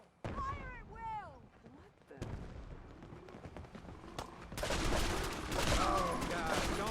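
Gunfire in the video game Fallout 4: Far Harbor, a few isolated shots giving way to a dense, continuous fusillade, with shouting voices in the first moments.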